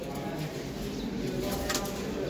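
Sila pigeons, a high-flying Giribaz breed, coo softly in a loft, with a brief flutter of wings and a voice speaking in the background.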